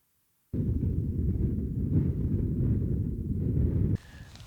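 Wind buffets the microphone on an open fell at Wild Boar Fell in the Yorkshire Dales, a loud steady low roar that begins abruptly and then drops away near the end.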